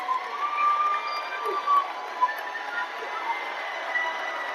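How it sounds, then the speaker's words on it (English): A high school basketball crowd at a district championship win roars and cheers as fans rush the court, a dense, sustained wash of shouting voices and footsteps with a few louder bursts. "Crowd rushes the court."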